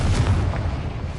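A Confringo blasting spell detonates in the Hogwarts Legacy video game: one loud, close, low rumbling blast that roars steadily for about a second with no voices.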